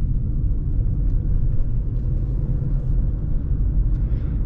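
A Hyundai Tucson Turbo rolls along a smooth dirt road, its engine and tires making a steady, low rumble heard from inside the cabin, continuous and even with no voices.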